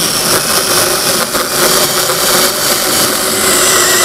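A cordless mini chainsaw cuts through a thick log wider than its guide bar, its motor whining loud and steady without stalling for the whole stretch, up close with no talking.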